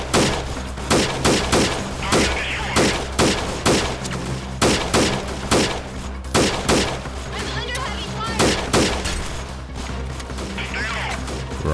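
Rapid repeated gunshots in the video game Freeman Guerrilla Warfare, a steady run of loud evenly spaced blasts throughout, with a voice talking over the firing.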